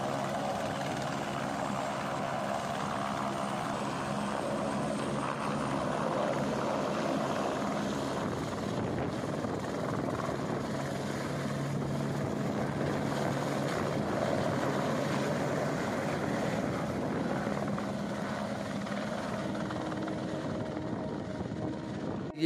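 Helicopter flying near the Kedarnath helipad in the mountains, a steady moderate rotor and engine drone that holds constant for the whole stretch, somewhat distant and without talk.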